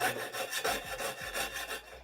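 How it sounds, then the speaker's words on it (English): Close, rhythmic back-and-forth sawing through wood, about eight strokes in two seconds with no voices. "Is my sawing sound obnoxious?"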